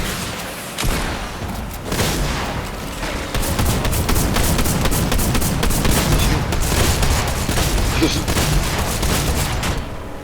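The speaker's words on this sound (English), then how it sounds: "let's launch some rockets at him" Rockets launched at a shark in a video game, a dense barrage of booming blasts and gunfire-like bursts that runs almost nonstop after a brief quiet opening, loud and close throughout.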